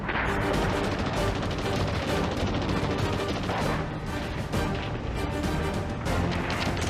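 Heavy WWII battle fire, with mortars, sniper shots and machine guns, forms a dense, continuous roar of overlapping blasts and bursts that stays loud throughout.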